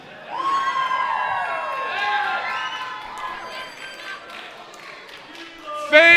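A wrestling crowd at an IHW show yells and cheers loudly in a sustained roar, swelling and fading, with a sharp burst near the end.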